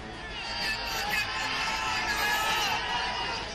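Dense crowd noise fills a street packed for Owaisi's door-to-door election campaign in a Muslim neighbourhood of Ghaziabad, a steady roar of many voices with scattered shouts and cheers, loud and continuous throughout.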